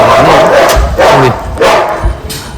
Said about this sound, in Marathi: कुत्र्याला काय झालं बघू